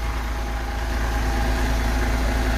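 A MAN A21 city bus diesel engine idling, a steady low rumble with constant vibration that holds even and unbroken throughout, with no speech over it.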